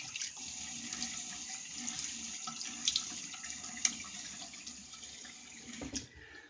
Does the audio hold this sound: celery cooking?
no